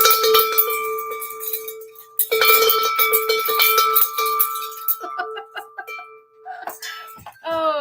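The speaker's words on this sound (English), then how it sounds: "You get the bell." A handheld bell rung repeatedly during a live rock slab viewing and sale stream, bright metallic clangs with ringing overtones that sustain and decay, loud and close.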